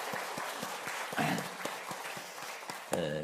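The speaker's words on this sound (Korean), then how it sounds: "우리 박수로 한번 더 격려하겠습니다" A church congregation claps for its worship team, a fairly soft, continuous patter of applause with a few sharper hand claps, and a voice breaks in at the close.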